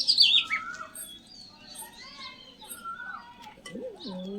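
Madrazi pigeons in a breeding loft make faint chirps and scattered calls, ending with a low cooing note. Distant children's voices and background activity can be heard under the birds.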